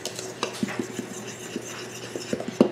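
A fork mixing dry biscuit ingredients including cream of tartar in a bowl, giving quick repeated scraping clicks and taps in an uneven rhythm, close and fairly clear, ending with a sharper knock, no voice over it.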